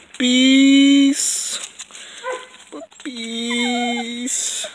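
Puppies whimper in long, high, wavering cries, two loud sustained whines separated by a brief pause with faint rustling between them, close to the microphone.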